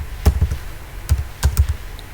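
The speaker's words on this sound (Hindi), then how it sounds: "यहाँ पे आपको लिखना है सीरियल नंबर।" Close, clear computer keyboard typing in short uneven bursts of keystrokes as text is entered into an Excel spreadsheet cell. No voices are heard.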